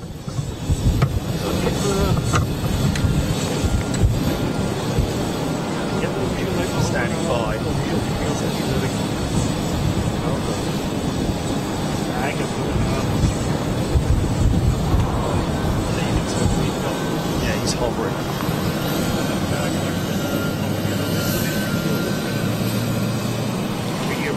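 Japan Airlines jet airliner at Schiphol airport, a loud, steady engine roar filling the whole stretch with a low rumble underneath, while people talk over it throughout.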